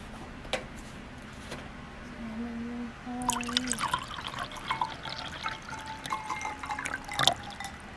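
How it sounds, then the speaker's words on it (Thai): Milk is poured over ice into a glass while making a frothy Korean-style whipped coffee, giving soft trickling and dripping sounds with a few clinks of ice, moderately close, alongside some light talk. "แล้วก็ใส่นมนะคะทุกคน"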